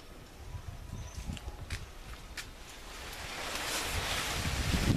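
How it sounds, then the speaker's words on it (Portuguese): Wind blows steadily through a backyard garden with potted plants and a pomegranate tree, a broad rushing noise that swells louder toward the end, with no voices. "Olha que maravilha de vento"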